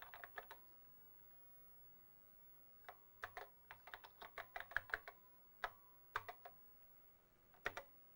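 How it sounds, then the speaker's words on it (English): Typing on a computer keyboard in a workshop, close and quiet, with irregular bursts of clicking key strikes separated by short pauses. "Sorry, you can't see me typing on there."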